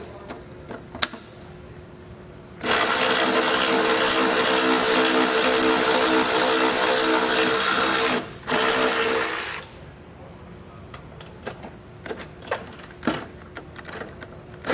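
A power socket tool whirs in two sustained bursts, one long and one short, while removing exhaust isolator bolts on a 2023 Toyota Camry, with scattered clicks and clanks of tool handling around them.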